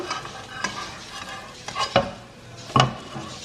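French toast fries in butter or ghee with a soft sizzle, broken by stirring, scraping and a couple of sharp spatula clatters as it is flipped in the pan, close up with no speech.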